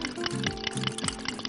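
Small amounts of water or milk poured into a béchamel sauce in a pan, a short liquid trickle with light gurgling and faint kitchen clatter over about a second and a half.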